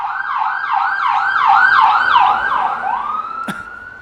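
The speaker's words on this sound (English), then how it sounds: "the police went by, or an ambulance" A police car or ambulance siren passes by a workshop, its wailing yelp repeating rapidly and growing louder toward the middle before fading, with a sharp click near the end.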